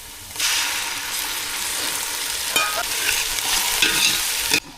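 Loud, steady sizzle of ginger-garlic paste hitting fried onions in hot oil, starting abruptly, with a few spatula scrapes and knocks, close up and without speech.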